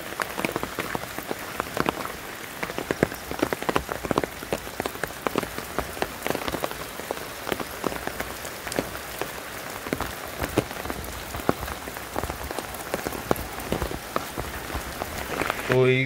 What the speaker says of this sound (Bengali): তোমাকে দেখাবো বৃষ্টির ওয়েদারটা আজকে।